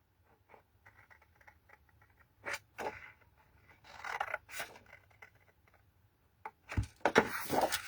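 Antique wallpaper being snipped at the corners with scissors for box making: a few crisp, separate cuts and rustles spread over quiet, then a louder flurry of paper handling at the end.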